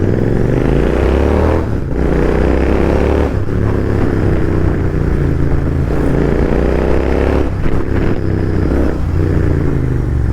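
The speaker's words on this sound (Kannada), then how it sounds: "ಕೇಳಿಸ್ಕೊಡ್ರಿ ಎಕ್ಸಾಸ್ಟ್ ಸೌಂಡು" A Royal Enfield GT 650 twin with an AEW India exhaust runs loud and close. A deep, continuous engine roar rises and falls in several rev swells over about ten seconds, with no speech.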